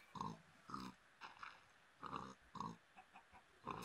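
Repeated grunting oinks from a pig in the Minecraft video game, short bursts coming in an irregular run, fairly close, with no talking over them.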